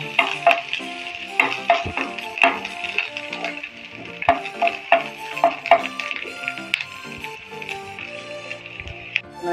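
Shallots and curry leaves frying in hot oil in a pan, a steady soft sizzle under repeated sharp clinks and scrapes of a spoon stirring against the metal.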